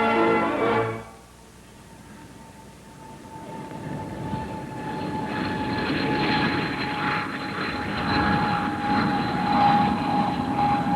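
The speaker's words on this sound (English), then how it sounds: "flying the first British turbojet bomber, the English Electric Canberra." An English Electric Canberra, an early British turbojet bomber, flies past with a steady, loud jet roar and a sustained high whine that builds and holds throughout.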